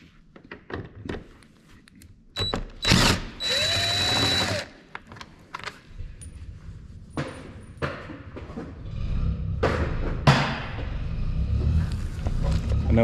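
An impact wrench works on the roof rack bolts of a GMC Yukon, rattling in a few harsh bursts among camera handling thumps and talk, with a steady mechanical drone in between.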